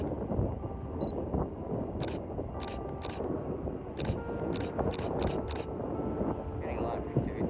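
A camera shutter fires repeatedly while photographing airliners at Sacramento airport, giving about eight crisp clicks in irregular bursts over a steady distant jet engine rumble.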